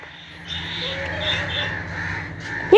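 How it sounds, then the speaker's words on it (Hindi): Several crows caw in the near distance over faint background noise. One sharp, louder call stands out at the end. "यार, ये कौवे के शोर कर रहे हैं।"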